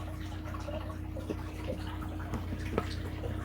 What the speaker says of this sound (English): run my filter on high for a couple minutes just to flush out all the debris and stuff